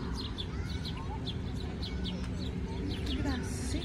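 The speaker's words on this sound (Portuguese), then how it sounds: "Os passarinhos, olha que festa." Small birds chirp in an enclosed aviary area of a park in New Brunswick, with quick scattered tweets over steady background noise and faint voices.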